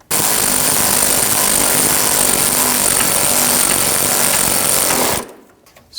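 A power tool runs loud and continuous for about five seconds, tightening radiator bolts on a 2001-2009 Volvo S60 2.5L five-cylinder, then cuts off abruptly into near-quiet.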